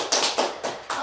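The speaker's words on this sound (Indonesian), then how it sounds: "Oke, tepuk tangan dulu." Several children clap their hands in short group bursts, about four claps spread over a second, fairly close and without talk, during an indoor Simon Says style game.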